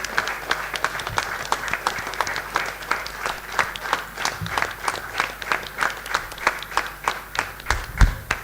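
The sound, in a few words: audience applause at workshop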